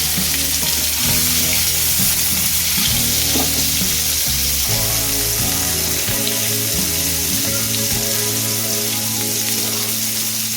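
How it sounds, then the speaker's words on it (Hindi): Food frying over a high gas flame for methi malai paneer, a loud continuous sizzle with stirring and steady tonal hum underneath, no talking. "जो गैस की फ्लेम है आपने उसको हाई पे ही रखना है। जैसे हम इसको फ्राई करेंगे।"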